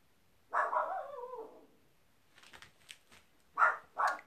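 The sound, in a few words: dog barking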